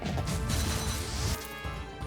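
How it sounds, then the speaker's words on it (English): A piñata being smashed in the video game Wizard of Legend: a dense, continuous burst of crashing and shattering game effects, loud and busy throughout, with no voices. "I'm actually really surprised that I'm having this much difficulty shattering the pinata."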